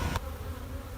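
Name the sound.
honeybees buzzing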